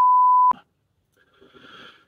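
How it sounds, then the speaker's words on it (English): A steady censor beep tone sounds alone for about half a second and cuts off abruptly, followed by quiet and then faint breathy rustling. "Gonna have to beep that one out now."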